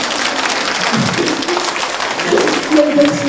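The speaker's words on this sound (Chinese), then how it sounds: "给我鼓掌一下" An audience at a Buddhist talk about Fo Guang Shan applauds in a dense, continuous burst of clapping that fills the whole moment and swells slightly near the end.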